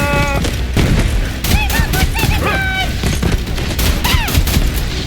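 A grenade blast and bursts of gunfire in the shooter Borderlands 3, with booming impacts and rapid shots mixed with whistling, chirping game effects throughout.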